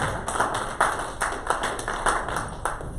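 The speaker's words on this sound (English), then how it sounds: "get a Lord a hand clap of praise" A church congregation claps in praise during a service, a rhythmic series of sharp, evenly spaced hand claps about twice a second, moderately loud over a soft background hum, with no speech.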